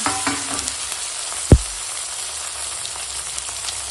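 Eggplant frying in hot oil with fenugreek, giving a soft steady sizzle close by, broken by one sharp low thud partway through, with no voices.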